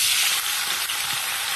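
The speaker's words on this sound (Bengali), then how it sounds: "এবারে দিয়ে দেবো টুকরো করে কেটে রাখা 3 থেকে 4টে মতন টমেটো আমি কেটে নিয়েছি, সেটা তেলের মধ্যে দিয়ে দেবো।" Three to four chopped tomatoes frying in hot oil for a vegetarian okra dish, giving a dense, even sizzle that holds steady and close without pause.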